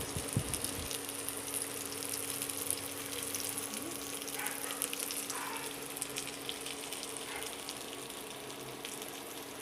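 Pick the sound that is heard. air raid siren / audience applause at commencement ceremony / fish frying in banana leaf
fish frying in banana leaf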